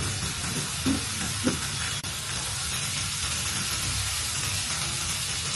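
Garlic and other ingredients frying in oil, a steady broadband sizzle throughout with a couple of soft stirring knocks near the start, close and moderately loud, no voices.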